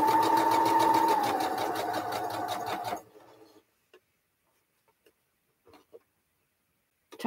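A sewing machine stitches patchwork quilt block pieces. Its loud, fast, steady whir runs for about three seconds and then stops. A few faint clicks and handling sounds follow in near silence.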